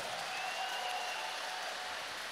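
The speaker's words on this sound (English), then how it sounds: "Let's give them a better hand clap than that" Sustained crowd clapping fills a school general assembly hall, an even, dense roar of many hands at moderate distance with a faint tonal hum beneath.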